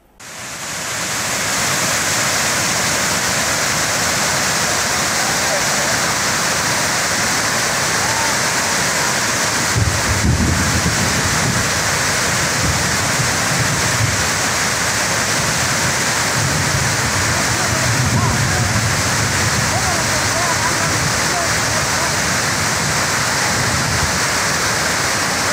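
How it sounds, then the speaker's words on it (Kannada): Water overflowing the spillway of the Srinivasa Sagar reservoir in Chikkaballapur after days of heavy rain, a steady loud rushing roar throughout with brief low rumbling surges midway, no voices. "ಚಿಕ್ಕಬಳ್ಳಾಪುರದಲ್ಲಿ ಸತತವಾಗಿ ಸುರಿಯುತ್ತಿರುವ ಮಳೆಯಿಂದ ಶ್ರೀನಿವಾಸ ಸಾಗರ ತುಂಬಿ ಕೋಡಿ ಹರಿಯುತ್ತಿದ್ದು ಪ್ರವಾಸಿಗರನ್ನು ಸೆಳೆಯುತ್ತಿದೆ"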